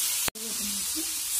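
Chopped jackfruit seeds and tomato sauté in a pan with a steady, close, hissing sizzle, broken by one brief cut, while a voice talks over it.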